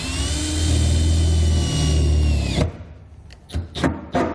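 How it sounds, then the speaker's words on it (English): A power drill with a 4-inch hole saw cuts a centre pilot hole through a 2019 Chevrolet Silverado truck bed, a loud steady whine for a few seconds, then it stops, followed by a few short clatters. "We're going to drill our pilot hole in the center."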